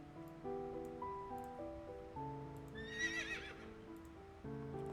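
A horse neighs midway in a game scene, a short bright whinny rising over a quiet background of sustained musical tones, with faint hoof clops.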